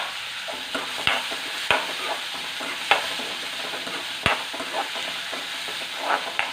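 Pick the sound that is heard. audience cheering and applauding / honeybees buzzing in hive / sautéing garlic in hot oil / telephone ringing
sautéing garlic in hot oil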